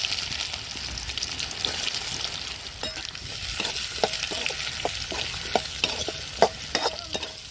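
Curry leaves and small shallots frying in hot oil in a pan after lentils, with a constant crackling sizzle and an uneven run of sharp spoon taps and scrapes close up.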